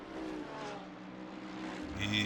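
Race cars, including a Lexus, pile into a corner at Monza in a racing game, engines droning and shifting in pitch together, with a rising whine and a faint voice in the background.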